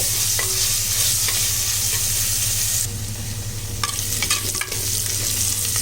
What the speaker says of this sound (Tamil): இப்போ நல்லா வெங்காயம் வதங்கிடுச்சு